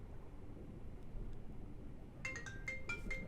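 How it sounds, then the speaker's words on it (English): A phone ringtone of an incoming call sounds during a video game shipwreck dive, a faint repeating electronic melody entering midway over low ambient noise. "Oh, phone call at the worst time."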